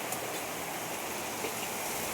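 Steady, even rain falls with a broad hiss and no pause, with no voices.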